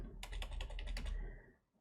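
Fast clicking keystrokes on a computer keyboard, a dense run of crisp taps lasting just over a second before stopping, close and alone with no voices.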